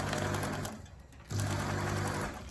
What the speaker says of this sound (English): I am just allowing my sewing machine to just make natural pleats